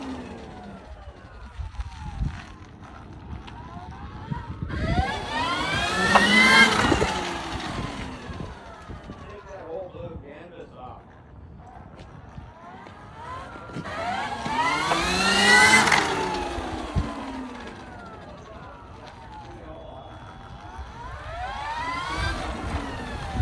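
Surron Storm Bee electric motorbike ridden in turbo mode, its motor whine rising and falling in three long surges of acceleration amid wind noise, moderately loud.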